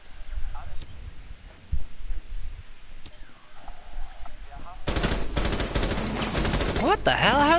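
Rainbow Six Siege video game gunfire: after quieter game ambience with scattered shots, a loud sustained burst of automatic fire erupts near the end and keeps going in rapid, dense rounds.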